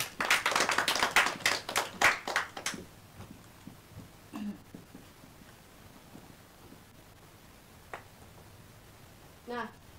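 A small classroom group claps briefly and loudly for a few seconds at a microteaching session, then the clapping stops, leaving quiet room noise with a couple of faint voices.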